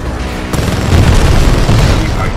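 Titanfall 2 weapon fire with explosions: a sharp blast followed by heavy, rumbling booms and continuous roaring battle noise, loud and close, with no talk.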